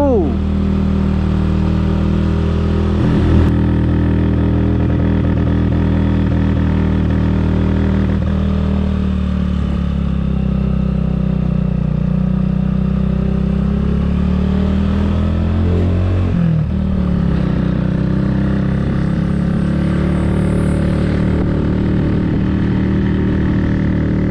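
A motorcycle climbs a steep uphill road to Mount Bromo in first gear, its engine droning loud and close under strain with shifting revs and occasional clatter, while a rider's voice is heard over it.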